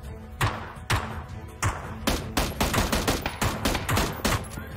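Rapid AK gunfire in the video game PUBG, a few single shots followed by a dense burst of loud, close automatic fire.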